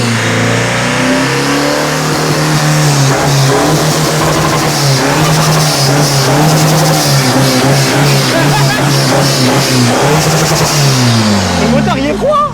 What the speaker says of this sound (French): Le moteur, il est froid. C'est un diesel, mec, ça casse pas.